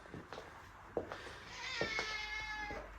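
A cat meows indoors in a lounge room with a bay window: a few short, faint meows followed by a longer, drawn-out meow, with no talking.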